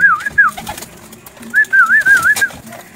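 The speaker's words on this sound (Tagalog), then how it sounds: "ito naman mga kalapatids yung nakakulit natin rin na kalapate na masungit." Pigeons cooing close by, a warbling rising-and-falling coo in two bursts with a short pause between, over quiet background noise.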